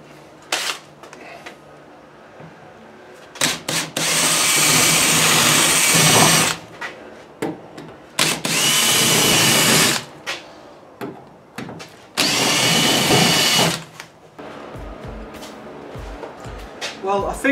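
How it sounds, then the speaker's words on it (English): A power drill whirs loudly in three long bursts of several seconds each, drilling out rivets holding rubber trim on an Audi 2.7 bi-turbo body, with brief clicks and handling noises in the pauses between them. "So I'm just going to drill them out now."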